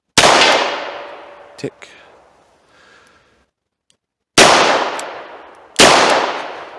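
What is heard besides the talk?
revolver shots fired at a metal tank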